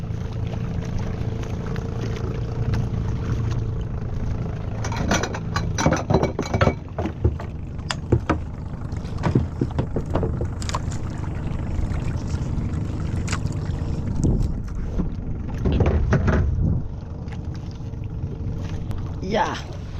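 A motorboat engine rumbles steadily while the boat moves on open water during a fishing trip, close and continuous throughout, with clinks and knocks on board and people talking over it.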